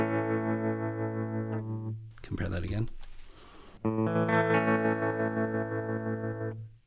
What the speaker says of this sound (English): I'm going to go to the sine wave. Here it's less jagged, right? It's just in and out,